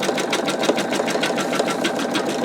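An embroidery machine stitches a skull design with a loud, continuous rapid needle clatter at a steady fast rhythm, close and unbroken with no voices.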